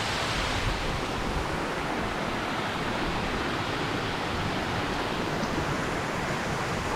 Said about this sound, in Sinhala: මේ තමයි බඹරකන්ද කියන වතුර පාර